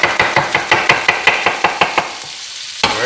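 An onion being chopped with a knife on a board, a steady run of about ten crisp, evenly spaced knife strikes, close and clear, then a brief pause before one final chop.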